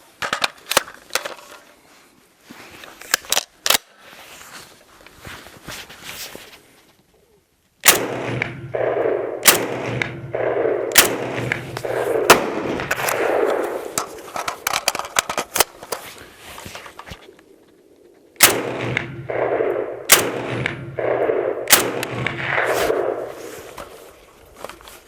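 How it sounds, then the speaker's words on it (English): A Chinese Type 97 Gen 3 rifle fed from pistol magazines fires loud, sharp shots close by, first a few quick cracks, then a pause, then more spaced rounds with ringing echoes and some handling clatter between them. "So we're going to shoot a couple of rounds,"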